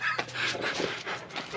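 Dogs panting quickly close by, with brief whimpering and faint whines in a short, breathy burst.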